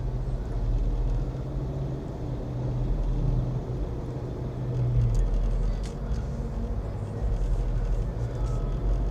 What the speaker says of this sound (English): there's definitely a lot of traffic out today